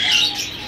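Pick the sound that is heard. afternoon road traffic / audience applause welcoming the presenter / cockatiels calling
cockatiels calling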